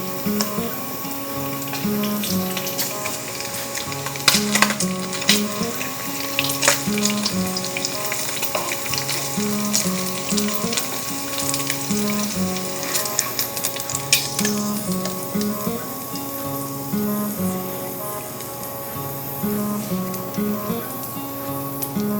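Bacon frying in its own grease in a pan: a loud, close, continuous sizzle and crackle runs throughout, with occasional stirring scrapes and a steady tonal hum underneath.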